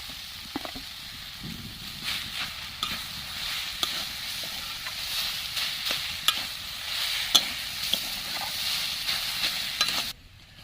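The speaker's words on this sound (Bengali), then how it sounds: "এবার আমি গ্রেট করে রাখা আলুটা দিয়ে দিচ্ছি এর মধ্যে" Grated potato is being stirred into cooked vegetables in a pan for a vegetable chop filling, with a soft steady sizzle and repeated light scraping strokes close by.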